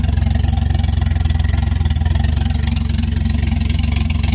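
A big-turbo 1JZ engine in a Lexus GS300, running an open downpipe, idles loud and close just after its first start, with a fast, even, lumpy pulse throughout.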